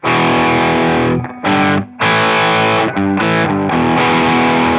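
Heavily distorted electric guitar chords chug through a verse riff, live version, with short choppy stops between loud sustained blasts.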